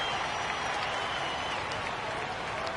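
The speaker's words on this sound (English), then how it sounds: "One more round of applause for your performers." Steady crowd applause and cheering fills a basketball arena in the video game NBA 2K22, a continuous even wash of clapping without pauses.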